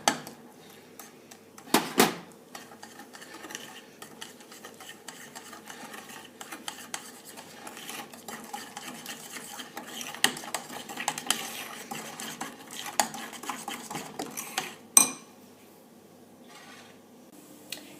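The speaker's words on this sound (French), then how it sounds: "Je mélange et j'incorpore les zestes de citron." Lemon zest being mixed into batter in a bowl, with scraping and stirring against the bowl, soft rubbing, and a few louder clinks of utensil on the rim.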